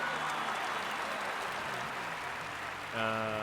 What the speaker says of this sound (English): You can hear the crowd just roaring there